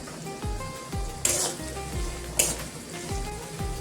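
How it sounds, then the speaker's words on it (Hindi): Onion and garlic fry in a pan for cabbage, carrot and pea sabji, with a steady close sizzle, a few stirring scrapes and two brief louder hissing bursts, no talk. "मैं प्याज लहसुन को फ्राई कर लिया।"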